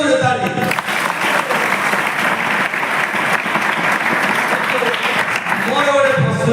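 An audience claps in sustained, loud applause that runs throughout, with a voice speaking over the clapping.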